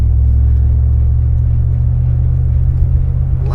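A long-idle Chrysler New Yorker engine runs rough after stalling, a loud, close, continuous low rumble with an uneven pulsing throb and no talking.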